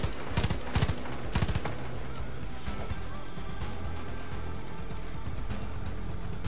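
Rapid automatic gunfire from the video game Far Cry 5, with several loud bursts of shots early on followed by quieter, sustained crackling of distant fire.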